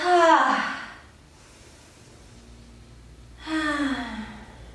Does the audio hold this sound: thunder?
no